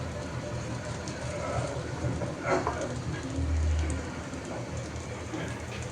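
Pakora fry in oil inside a rice cooker, giving a continuous, close crackling sizzle that stays even throughout.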